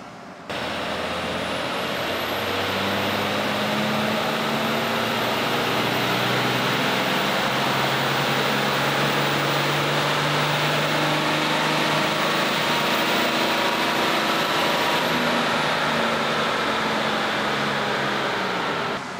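A Cummins VP diesel truck engine with a stock turbo roars on a dyno in a loud, sustained pull whose pitch climbs slowly, with a high turbo whine running above it throughout.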